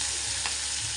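Green chilies and curry leaves sizzle in hot oil for a potato dish, a steady close crackling fry with no voices.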